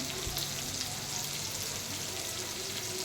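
Onion and tomato fry in a pan as they are stirred, a dense, steady close-up sizzle with no break across the short stretch.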